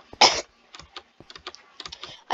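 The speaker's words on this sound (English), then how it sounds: "I keep coughing." A single sharp cough bursts out near the start, followed by a string of quiet, irregular keyboard taps while playing Minecraft.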